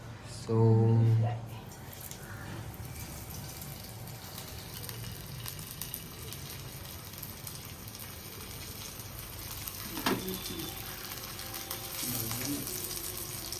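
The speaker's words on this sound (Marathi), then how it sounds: "सो आता हा तवा फ्राय आहे आणि मम्मी आता डीप फ्राय त्याच्यामध्ये" Bombil (Bombay duck fish) frying in a pan at home, a steady sizzle running throughout with a short louder burst near the start and some clatter later.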